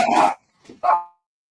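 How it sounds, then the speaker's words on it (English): Dog barks twice with a brief gap, a strong yap followed by a softer one, nearby in a quiet room with no talk. "You've got a dog too."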